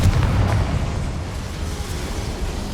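A Confringo fire spell explodes in Hogwarts Legacy, a loud, dense blast that starts sharp and then rumbles on heavily for nearly three seconds.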